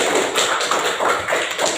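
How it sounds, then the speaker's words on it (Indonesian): A classroom group applauds at a lesson, with dense, even clapping from many hands that stays loud and steady for a couple of seconds and has no talk. "Saya berikan aplaus dulu."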